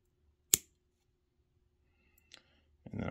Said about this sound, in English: I don't want this decorative piece on here, so I'm going to cut it off.